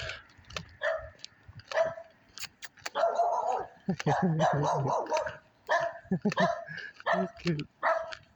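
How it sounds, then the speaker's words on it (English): Dogs bark and yip in short bursts outdoors on a stroll past a demolished house, loud and near, while people talk over and between the barks. "Some cute dogs."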